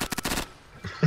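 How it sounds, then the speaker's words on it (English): Rapid automatic gunfire in the video game Fallout, a burst of loud close shots in quick rhythm that stops abruptly, followed by a short quieter thud. "What's shooting me?"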